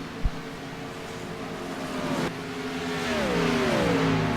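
Stock race cars coming off turn 4, their engine drone swelling and rising in pitch as they close in and roar past, loud and continuous with no talk over it.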